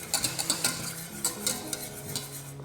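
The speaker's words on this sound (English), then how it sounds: "whisk that until it's completely smooth" Traditional gravy is whisked briskly in a pan, with rapid, rhythmic metal scrapes and clinks of the whisk against the pan over a soft sizzle, close and moderately loud, with no voices.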